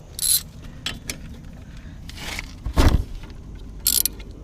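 Ratchet wrench working a 14 mm brake caliper bolt on a 2008 Ford Focus, heard as several short separated clicking bursts with scrapes between, fairly quiet and close, no talk.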